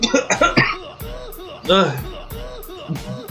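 A close voice produces a string of short cough-like bursts, sounding staged and mixed with vocal noises, somewhat like an imitated cough.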